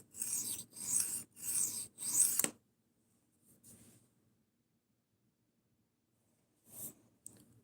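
An ESEE Izula knife blade is drawn across a sharpening stone in four steady rasping strokes, then a few fainter scrapes follow after a pause, close and alone with no talk.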